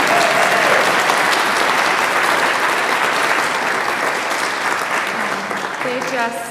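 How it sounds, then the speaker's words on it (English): Sustained applause from a church congregation at a Unitarian Universalist worship service fills the room loudly and steadily, easing slightly toward the end as a voice begins speaking. "You can clap for that."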